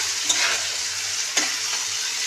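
Steady, close sizzling of ridge gourd frying in oil, with a couple of brief scrapes from stirring.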